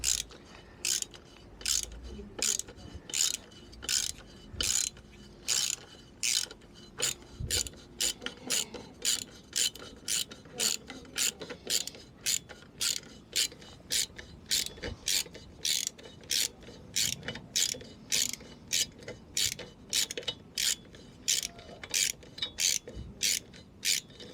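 A ratchet undoing a stubborn bolt on a Direct Bikes DB50QT-11 sport moped during a restoration: fast, evenly repeated metallic clicks continue close and steady for the whole stretch.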